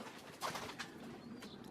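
Pigeons in a home loft, local and Bombay breeds, give soft, low cooing calls in a few short bursts, close by and fairly quiet, with a faint flutter of activity around them.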